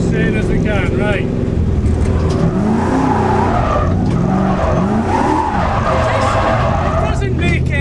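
A car engine revs hard and climbs through the gears, loud and continuous with rising tones and faint tyre squeal.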